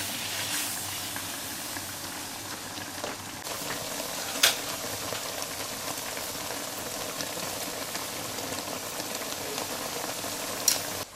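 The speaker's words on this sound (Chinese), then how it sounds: "水烧开了，开始下面条。" Water in a pot boils with a steady hiss and bubbling, and a couple of brief louder splashes come as noodles go in, with no talking over it.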